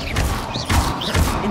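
A Leviosa levitation spell cast in Hogwarts Legacy gives short, airy magical swooshes with a couple of rising whooshes and soft low thumps, all within a brief moment.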